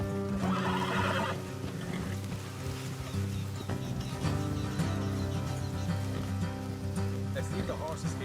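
Horses in Red Dead Redemption 2 whinnying and neighing, with hoof clip-clops and some spoken dialogue among the game sounds.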